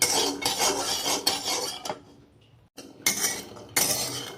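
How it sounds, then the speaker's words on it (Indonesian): Peanuts dry-roasting in a pan for sweet spicy peanut dumplings, the nuts scraped and stirred with a metal utensil in rapid clattering bursts, close and fairly loud, with a short quieter gap where faint crackling comes through. "Ini masih terdengar bunyi peletik-peletiknya ya, jadi belum matang."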